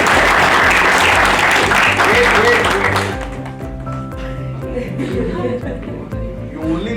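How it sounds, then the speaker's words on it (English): An audience claps for a few seconds, a dense burst of applause that fades into scattered taps while people talk faintly underneath. "Please clap for Nikhil"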